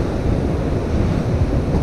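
Ocean surf washes onto a beach in a steady, loud, broadband rush with heavy low rumble and wind buffeting the microphone, continuous with no pauses.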